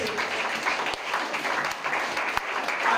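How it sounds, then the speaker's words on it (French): A church congregation applauds steadily, dense clapping filling the room close by, with a few louder individual claps standing out and faint voices underneath. "Let's clap for them."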